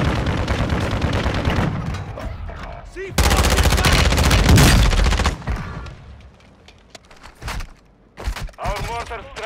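Heavy cluster strike explosions and rapid automatic gunfire roar through a Call of Duty: Modern Warfare II match, loud dense bursts and a long sustained barrage that thins into scattered shots and cracks, with a player's voice in the mix.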